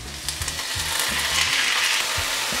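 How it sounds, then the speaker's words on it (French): Onions and cabbage sizzling in a little oil in a pan for New York hot dogs, a steady, loud crackling hiss close up, with a few low thumps of stirring near the start. "faire revenir les oignons avec un petit peu d'huile dans une poêle"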